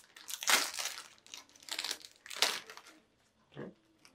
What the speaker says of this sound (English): let's crack open the pack. So here we got the foil pack.